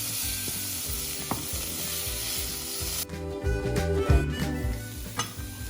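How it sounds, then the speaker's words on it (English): Scallops sizzle and fry steadily in a hot pan for an Indian-style scallop fry, with a constant loud hiss and occasional stirring scrapes partway through, no talking. "So we're going to add our scallops now right into this."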